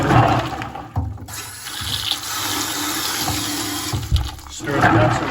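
Water pours and splashes while pecans are washed over a bucket, a loud rushing gush with a short break and a second burst, plus some faint handling noise.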